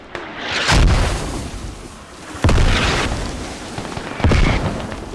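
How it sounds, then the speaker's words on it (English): Three heavy mortar impacts strike an enemy base in a large multiplayer war video game, each a sharp booming blast with a rumbling tail, spaced about two seconds apart, loud and fairly close. "We are mortaring the enemy hab."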